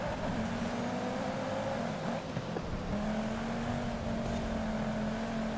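A race car engine drones in Forza Horizon on a wet track, a steady mid-pitched hum that dips as the driver shifts, then climbs and holds again, moderately quiet and without talk.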